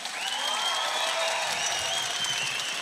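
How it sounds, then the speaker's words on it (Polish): A crowd applauds at a FAME MMA fight event, with dense, steady clapping and some cheering filling the arena for a few seconds, and no speech. "Moi drodzy, wielkie brawa."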